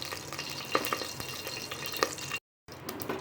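Fennel and mustard seeds fry in hot oil in a pan for a crab rasam, giving a soft continuous sizzle with scattered small pops and crackles, briefly cutting out near the end.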